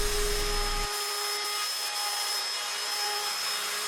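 A steady machine whine with a constant broadband rush as a tool eases the edges of a wooden bench seat; the low rumble drops away after the first second and the sound continues evenly.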